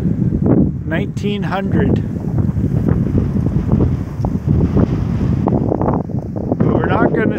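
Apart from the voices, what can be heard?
strong wind blowing into the microphone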